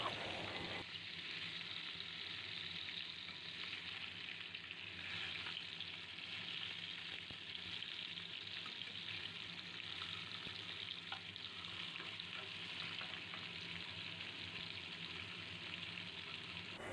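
Bhangar fish sizzling in hot mustard oil in a wok after being turned over, a constant close crackle holding at an even level throughout without speech.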